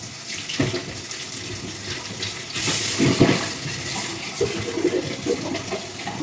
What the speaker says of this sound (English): let's use some hot water actually